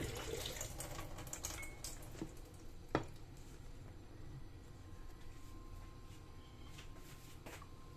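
Paragis grass is washed under a running tap, with steady faint water flow, wet squishing of the stems and a few sharp splashes and clicks.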